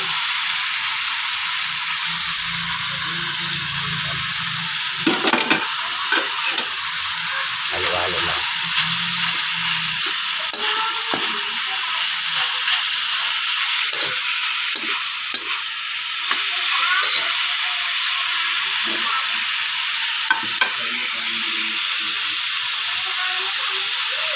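Sweet potato tops sautéing in a pan with bay leaf, a steady sizzle and hiss broken by scraping stirring strokes throughout, fairly close, with no talking.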